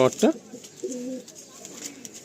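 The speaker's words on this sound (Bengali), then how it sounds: "নটটা তেজাল নর, বড় সাইজ, বিগ সাইজ পায়রা, হাতে রাখাই যাচ্ছে না একে" A big Nazra Kaldom pigeon coos in low, soft phrases while held in the hand, with a brief flurry of sharper sounds at the start and no other activity around it.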